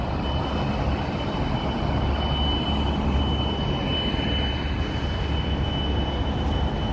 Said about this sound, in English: we still hear the noise coming from helicopter there